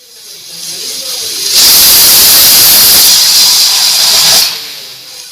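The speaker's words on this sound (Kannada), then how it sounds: "ಕುಕ್ಕರ್ ಲೆಡನ್ನು ಕ್ಲೋಸ್ ಮಾಡಿ ನಾವು ಒಂದು ವಿಷಲ್ ಕೂಗಿಸ್ಕೊಂಡ್ರೆ ಸಾಕಾಗತ್ತೆ" A loud, steady hiss of steam bursts out and holds for about three seconds before cutting off, a pressure cooker venting its whistle while cooking chicken biryani.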